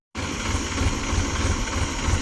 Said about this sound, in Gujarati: આ ટ્રેક્ટર અહીંથી જોડ્યો છે